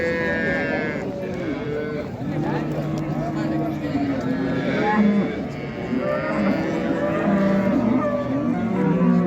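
A dairy cow at the Karshi Karvon livestock market moos in long, loud, drawn-out calls, with other cattle and sheep bleating nearby while people talk throughout.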